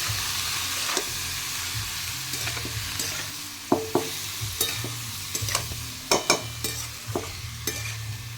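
Cabbage curry sizzles softly in a covered pan on a home stove. A low, steady simmer runs underneath while sharp scraping and clinking knocks from stirring come in irregular bursts, growing busier toward the end.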